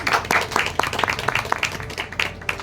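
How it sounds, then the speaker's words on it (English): An audience applauds a speaker at a talk, with steady clapping that holds at a moderate level throughout and has a few sharper claps standing out. "Please give a big round of applause for her."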